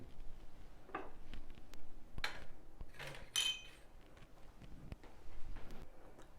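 Heated cups set down one by one on top of a Breville Cafe Roma ESP8XL espresso machine, a few light ceramic clinks and knocks spread over several seconds against a low background hum.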